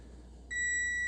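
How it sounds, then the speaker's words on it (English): A kitchen oven timer starts beeping halfway through, a steady, fairly loud electronic tone that holds on after a quiet room hush. "now we're waiting for the timer to go"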